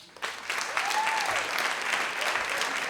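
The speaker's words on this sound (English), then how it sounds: "Give a big round of applause for Kim." Live audience at a storytelling slam claps for a storyteller, a sudden burst of applause that swells and holds steady, with a brief cheer rising above the clapping.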